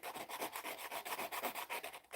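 Sandpaper rubbed back and forth across fingernails makes a quick run of close, rhythmic rasping strokes, about a dozen scrapes in two seconds, with no voices.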